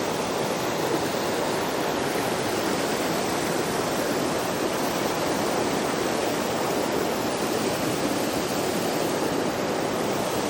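Mountain creek water spills over plunge pools in a backcountry Blue Ridge stream, making a steady, close rushing wash that stays even and uninterrupted throughout.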